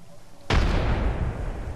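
A frag grenade in Apex Legends goes off once with a sudden loud boom, followed by a rumbling decay that lingers for over a second.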